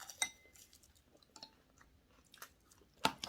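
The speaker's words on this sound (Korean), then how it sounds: "김이 굉장히 바삭바삭한 김이네" Crispy green laver seaweed (parae gim) crunches in sparse, crackly bites, a few sharp loud snaps between quieter chews, close to the mouth with no talking.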